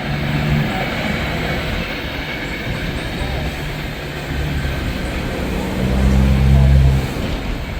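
Freight train rumbling past close by in Carlisle, a steady heavy roar with a swell of louder low rumble near the end.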